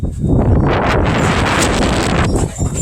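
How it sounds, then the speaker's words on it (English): Loud, steady wind gusting outdoors in a yard where a 3D-printed concrete planter form is being worked on, with rough buffeting roar against the microphone that dips briefly near the end before surging again. "And here comes the wind. Just blew out everything I was working on."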